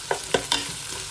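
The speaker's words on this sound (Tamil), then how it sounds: "வெட்டி வச்ச உள்ளி, ரம்பை, மிளகாய் எல்லாம் சேர்த்து ஒன்றா மிக்ஸ் பண்ணுவோம்" Spoon stirring chopped garlic, pandan and chilli frying in oil in a pan, three quick scraping strokes over a soft sizzle, close and moderately loud.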